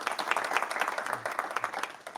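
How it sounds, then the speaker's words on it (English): A conference audience at a quantum computing event gives a speaker a round of applause: dense, continuous hand-clapping from a fairly close crowd that tapers off slightly at the end. "Let's give another round of applause for Nardo."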